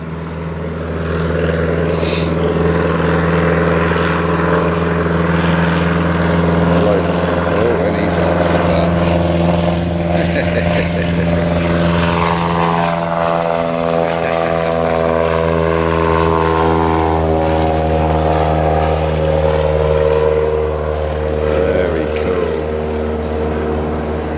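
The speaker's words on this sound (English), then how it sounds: "That's ski plane popped in just to wake everybody up a little bit" A ski plane's propeller engine drones steadily overhead, loud and sustained, with its pitch sliding downward as it passes over and away.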